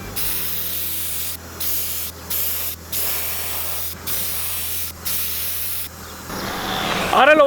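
Spray paint being applied to a scratched car panel in repeated short bursts, each hiss lasting about half a second to a second, close and loud, with a steady low hum underneath and some handling noise at the end.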